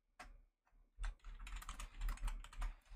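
Typing on a computer keyboard during Minecraft-style play, a rapid run of clicking keystrokes close up, with a brief pause before a steady burst of continuous typing.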